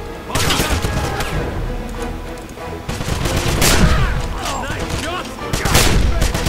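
Gunfire in the Wolfenstein video game comes in loud repeated bursts and rapid volleys, close and dense throughout, with some talk mixed in.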